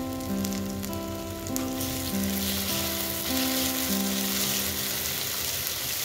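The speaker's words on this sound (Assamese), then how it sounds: "ভাজি লোৱাৰ পাছত চাওক আপোনালোকে দি দিছো তেজপাত এখিলা" A bay leaf frying in hot oil in a pan for Indian boal catfish curry makes a continuous, even crackling sizzle, with steady tonal sounds running alongside it.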